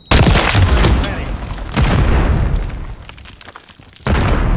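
A grenade blast in Call of Duty MW3 multiplayer: a loud, heavy boom opens and rumbles on, followed by a second swell and then another sharp burst near the end, with no talking.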